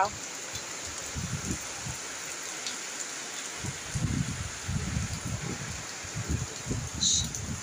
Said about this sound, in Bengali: দেখো কি হারে বৃষ্টি হচ্ছে দেখো।